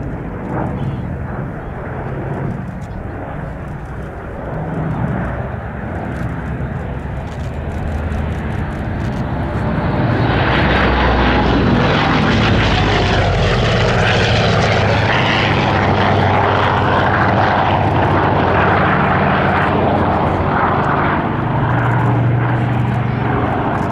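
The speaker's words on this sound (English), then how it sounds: "Original DC-6" A Douglas DC-6 piston-engine propeller airliner at the D-Day 80th anniversary air display at Duxford: a distant propeller drone swells into a loud, sustained roar about halfway through as the aircraft passes close.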